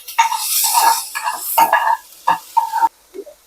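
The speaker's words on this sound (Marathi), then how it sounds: "कांदा थोडा मध्यम असा फ्राय करून घ्यायचंय" Chopped onion frying in a pan at medium heat, stirred at intervals, with bursts of sizzling and scraping broken by short pauses, close and fairly loud.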